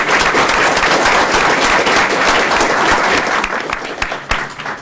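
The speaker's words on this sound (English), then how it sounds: "he deserves a round of applause for that" A board of supervisors meeting in Warminster fills with sustained, close, dense audience applause that tapers slightly toward the end.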